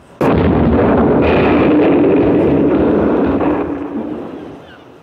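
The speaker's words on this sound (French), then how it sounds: "sur le paquebot La Reine de Sabag, une forte explosion vient de retentir." A sudden loud explosion aboard an ocean liner erupts into a long roaring rumble that slowly fades over several seconds, heavy and close.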